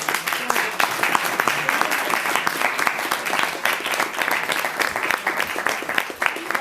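Audience applause closing a university lecture event on labor law in Mexico, a steady dense clapping crowd sustained for several seconds with some voices mixed in.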